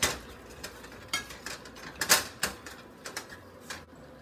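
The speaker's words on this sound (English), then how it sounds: "I'm just gonna mash the butter in and the potatoes until" A potato masher works butter into cooked potatoes in a bowl, giving a series of soft, irregular squishing thumps and light clinks of metal on the bowl, quiet and close.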